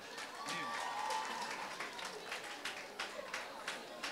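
A high school audience claps for a student recognized after an accident, fairly faint and distant, with a voice speaking over the start before the clapping thins into separate claps.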